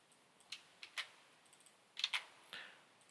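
Quiet, close clicks of keys on a computer keyboard, a handful of scattered keystrokes with short pauses between them and no talking.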